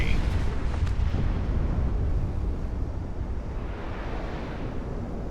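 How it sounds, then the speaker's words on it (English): Bombs dropped from a jet in the combat flight game Project Wingman explode in a continuous, heavy low rumble of blasts that rolls on steadily and slowly fades, with no talking over it. "Monarch, bombs away."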